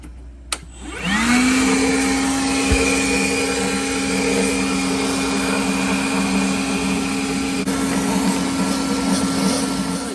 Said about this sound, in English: so first things first, let's do a little vacuum.